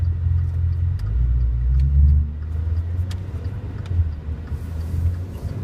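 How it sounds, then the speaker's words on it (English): Maserati Levante SUV engine on a test drive, a deep throaty rumble close by that swells briefly as it downshifts, then settles back into a steady low drone. "I like it when it downshifts. Yeah. Gives it that nice throaty sound."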